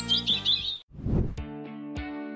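Small birds chirp and tweet in a nest in high bright bursts, followed by a brief rustle and a few sharper calls, close up over a harmonic musical background.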